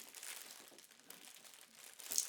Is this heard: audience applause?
no